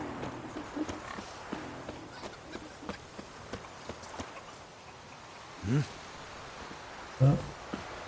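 A horse clip-clops along in The Witcher video game, with steady hoofbeats under ambient game sound and two brief louder bursts near the end.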